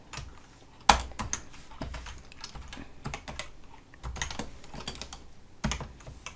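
Computer keyboard typing while coding Java, scattered keystrokes and bursts of clicks in an uneven rhythm, close and moderately loud, one sharp louder key hit near the start, no talking.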